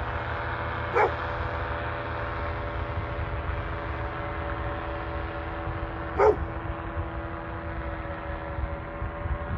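Two short, distant dog barks, several seconds apart, over a steady low engine or generator hum, in the desert near Quartzsite, Arizona.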